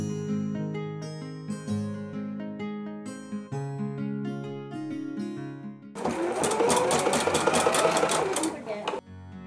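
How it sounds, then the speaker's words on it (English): A sewing machine stitches buttons onto a period-style 1890s jacket, a dense mechanical whir starting about two-thirds through and running steadily for a few seconds, following a stretch of tonal sound without the machine. "I then used scotch tape to secure the buttons in place before sewing them on using my machine."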